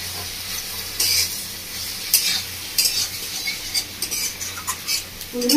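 Chopped medium tomato drops into ridge gourd and prawns frying in a pan, a soft sizzle with scraping stirs and brief bright clatters of a spoon, close and steady with no voices.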